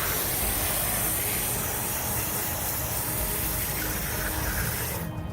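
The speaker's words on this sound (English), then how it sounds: "the water's dripping out the back like it's supposed to" Water drains steadily out of a backyard bog garden planted with carnivorous Sarracenia pitcher plants, a close, continuous hissing trickle and spray with no voices, stopping abruptly at the very end.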